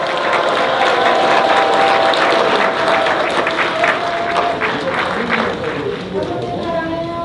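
A church congregation gives loud, sustained applause for the pastor's wife during a rally service, a dense wash of clapping that fills the hall, with a voice audible over it.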